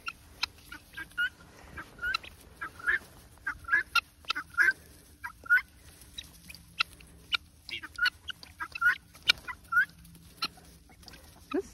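Guinea fowl and chickens crowd around feed, with repeated sharp, loud calls and clucks in irregular bursts over a quieter background of scratching and movement.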